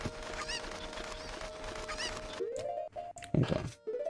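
Chickens cluck and honk in a video game, several squawking calls in a row over a steady droning background hum, then a few sharper clucks near the end.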